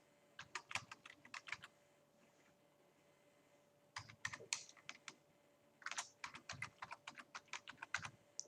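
Close, quiet keystrokes as an email address is entered on a computer keyboard, coming in three quick bursts separated by a short pause, with no voices.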